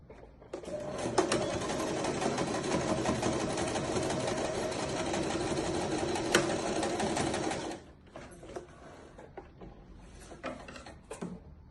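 A sewing machine runs steadily for about eight seconds as it stitches along the edge of a kangaroo pocket, a close, even mechanical whir, then stops, leaving only a few faint handling clicks.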